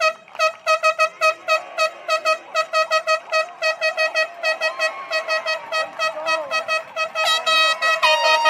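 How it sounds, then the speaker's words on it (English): Air horns blown by fans at a high school state finals baseball game, a rapid series of loud, repeated blasts in short bursts that run together into longer honks near the end. "you get the air horns out"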